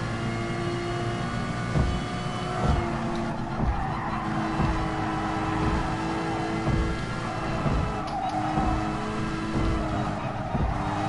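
A race car in Gran Turismo Sport braking into a hairpin: a steady loud engine drone with tire squeal and skidding layered over it, near and continuous throughout.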